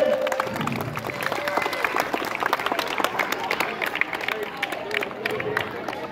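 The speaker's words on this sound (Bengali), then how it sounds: "সকলে একটু হাততালি দেবেন" Crowd clapping at an under-12 five-a-side football tournament, a scattered, uneven patter of hand claps mixed with murmuring voices and open-air crowd noise throughout.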